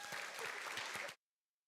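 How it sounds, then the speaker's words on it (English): A school board meeting audience claps for elementary students who won a scientific challenge, a brief burst of dense applause that stops abruptly after about a second. "Let's give them a big round of applause."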